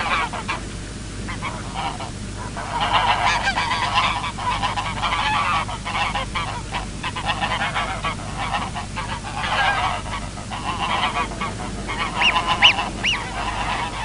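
A flock of pink-footed geese honks continuously at the Þjórsárver wetlands in Iceland, a dense, loud chorus of overlapping calls near and far, with a few sharper honks standing out toward the end.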